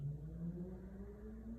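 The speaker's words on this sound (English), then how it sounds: "That's a motorcycle?" A motorcycle engine drones past at a distance, its pitch gliding steadily upward as it goes by, faint and low beneath a quiet room.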